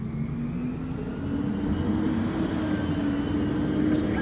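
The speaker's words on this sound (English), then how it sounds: "It's probably a long while that we didn't catch an autocar rumbling." An Autocar garbage truck's diesel engine rumbles steadily nearby with a low, even drone and a slight rise in level partway through. No one talks over it.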